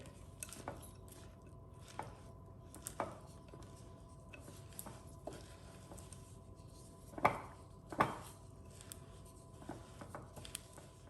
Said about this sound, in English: I'm just finishing combining the ingredients that I've put together for our Anytime granola bars.